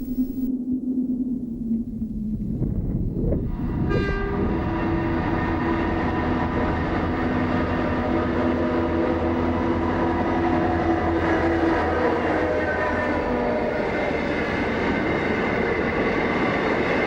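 The Indian Pacific passenger train running on rails in Australia: a steady rumble and rolling clatter that swells, then a long, tonal squeal of wheels on the track held over the noise, close and loud.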